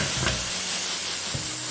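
Brake cleaner sprayed from an aerosol can onto aluminium diamond plate, a loud close continuous hiss with two short bursts of clatter near the start and near the end.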